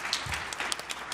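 A crowd at a TwitchCon Las Vegas 2023 panel claps briefly, a short spatter of scattered hand claps with a few distinct louder strikes over room ambience.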